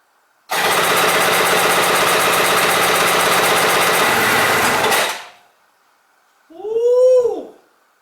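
A Yamaha GP760 Waverunner engine running without choke, a loud, steady rattling idle for several seconds that cuts out abruptly, followed by a short high whooping voice.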